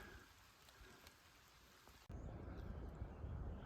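Rain falls steadily on a forest hiking trail among ferns, a soft continuous patter that grows heavier and closer partway through, with no talking.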